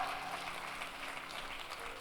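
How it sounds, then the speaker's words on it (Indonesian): Applause from a church congregation during a worship service: a steady, even wash of many hands clapping together, fairly soft and distant, with no voices over it. "tepuk tangannya yang paling meriah buat Tuhan kita"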